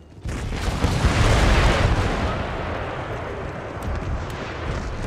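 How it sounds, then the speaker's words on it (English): A dense roaring wall of rocket artillery fire in Empire Total War, one loud sustained whooshing blast swelling early and slowly fading into rumble, with no talk. "Here comes the rocket artillery."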